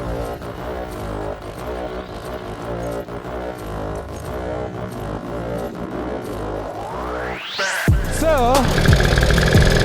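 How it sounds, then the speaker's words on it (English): A 1980s Honda MotoCompo scooter's small engine runs nearby. A steady buzzy drone rises sharply in pitch as it revs, then switches to a wavering, uneven tone after a brief cutoff near the end. "Now let's go ride the MotoCompo."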